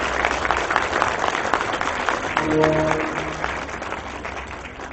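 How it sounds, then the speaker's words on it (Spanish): Audience at a cultural forum gives a round of applause for a welcomed guest, a broad, even patter of many hands with a brief voice rising through the middle. "Vamos a darle también un fuerte aplauso a Pérez Arce"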